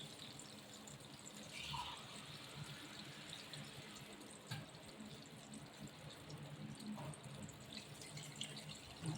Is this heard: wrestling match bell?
no